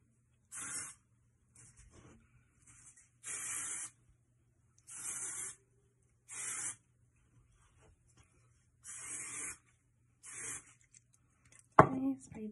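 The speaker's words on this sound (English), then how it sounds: "I'm gonna spray a bit of this in there." Hair spray hissing from an aerosol can during a curling routine, several short bursts of about a second each separated by quiet pauses, close to the mic, with a brief clatter at the end.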